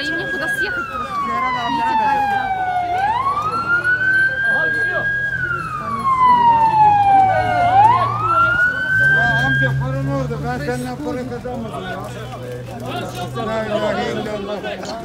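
An ambulance siren wails loudly in Antalya traffic, rising and falling in long sweeping cycles over steady traffic rumble, with faint voices underneath.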